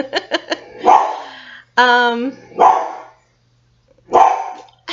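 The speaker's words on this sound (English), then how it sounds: "With the dog barking, hopefully you hear me." A dog barks several times close by, with quick sharp yaps at the start followed by louder, longer barks spaced out across the moment, alone without talk.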